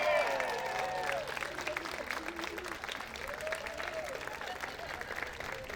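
Sustained applause fills a graduation ceremony hall for the La Raza de Loyola class of 2022, a dense, steady wash of many hands clapping with crowd murmur and faint voices mixed in throughout.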